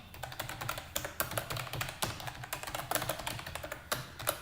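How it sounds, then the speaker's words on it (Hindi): An address is typed on a computer keyboard in fast, irregular bursts of close, crisp key clicks with short pauses between words, with no voices. "एड्रेस जो है वो टाइप कर देता हूँ"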